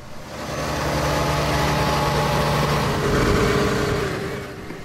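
A Valtra Powershift tractor pulling a trailer gives a steady, loud, close diesel drone that shifts pitch as it changes gears, with a noticeable tone change partway through and no talking.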